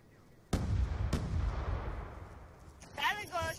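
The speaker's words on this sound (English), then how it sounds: "Friendly Hellstorm missile inbound." A Hellstorm missile strike in Call of Duty: two sharp, heavy blasts about half a second apart, followed by a long rumbling decay, with a voice briefly speaking near the end.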